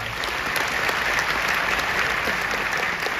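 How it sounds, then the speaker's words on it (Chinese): Audience applause at a direct-selling seminar, dense and steady from a large crowd throughout, fairly loud with no talk over it. "给自己一个掌声来"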